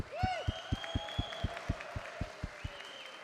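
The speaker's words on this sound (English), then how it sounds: "can we get a round of applause for Wales, Scotland, and Netherlands" An audience at the HADO European Championships 2024 claps steadily in a regular rhythm, with an electronic sweeping tone and music over the applause.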